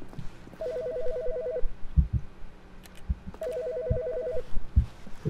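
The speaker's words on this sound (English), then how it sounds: "Wait, there's phone ringing. I hear phone ringing." A telephone rings inside The Stanley Parable video game, two bursts of rapid trilling bells separated by a pause, moderately loud over faint background thuds and footsteps.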